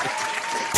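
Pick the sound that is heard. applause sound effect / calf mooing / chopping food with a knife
applause sound effect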